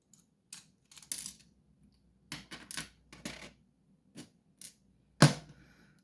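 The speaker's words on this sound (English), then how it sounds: "And remove these 2 screws." Screws being removed from a torpedo overset lock with a standard driver, a series of close, sharp metallic clicks and taps in short bursts with quiet gaps between, ending in a louder clack.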